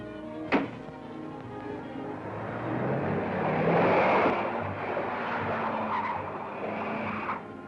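A car pulls away with skidding, squealing tires in an old 1930s serial scene, a sharp bang near the start, then a sustained roar and tire screech that swells in the middle and holds to the end, with no talk.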